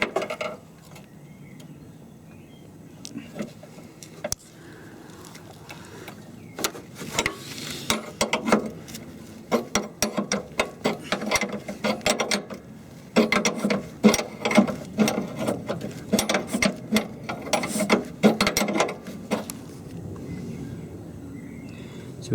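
A spanner undoes a 17mm locking nut on a Mountfield 1328H lawn mower during a cutter drive belt replacement. Close metallic ratcheting clicks and scrapes come in uneven bursts that grow busier toward the end, with no speech.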